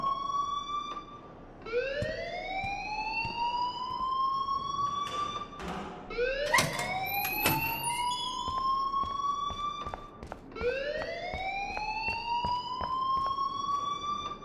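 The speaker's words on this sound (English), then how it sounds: "please turn off that alarm since that's your job." An alarm in the video game Life Is Strange wails in loud, rising siren-like sweeps that repeat about every four seconds, with a few thumps in between and no talking.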